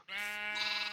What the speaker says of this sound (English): I'm gonna go ahead and shear some more sheep and actually breed the sheep